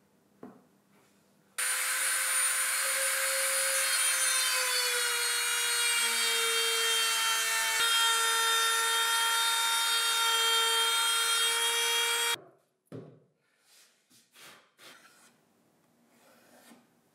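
A homemade rotary tool on a plunge base with an edge guide cuts through wood in one long, loud, steady high-pitched whine with grinding, then stops and is followed by brief clatter and handling noises.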